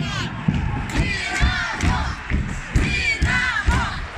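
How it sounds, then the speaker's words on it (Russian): Hockey fans at a youth ice hockey tournament final, crowd noise with rhythmic thuds roughly every half second from clapping and stomping in time, shouts and chanting voices over the beat. "Болельщики волновались и поддерживали своих, отбивая такт и ладонями,"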